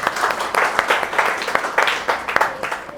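Audience applause at a talk, a steady wash of clapping from a crowd that rises and falls in small waves over a few seconds, fairly loud and close.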